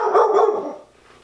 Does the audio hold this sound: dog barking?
yes